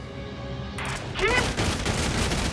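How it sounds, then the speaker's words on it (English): Gatling gun fire in Valkyria Chronicles 4 bursts in after a tonal musical opening, a loud dense rattle of shots with a whining ricochet-like sweep, brief and close. "Quite a few Gatling guns around."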